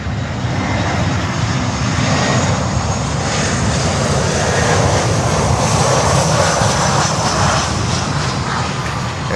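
Saab aircraft at Miami airport, its engine roaring loud and steady throughout with a broad continuous drone, close and unbroken, no voices.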